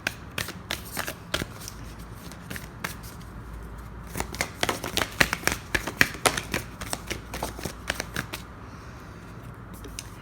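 Tarot cards being shuffled and drawn, a close, crisp flurry of riffling snaps and light flicks in irregular bursts, with no speech.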